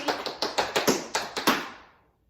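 A group of tap dancers beats out sharp flap and step taps, about nine crisp strikes in an uneven rhythm that fade at the end, with no talking.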